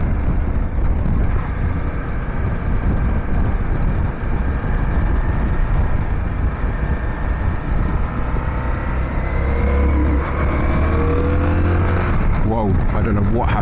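Aprilia Caponord motorcycle engine droning steadily while riding uphill on a group trip, a loud continuous roar mixed with heavy wind rush, with a rising engine note near the end.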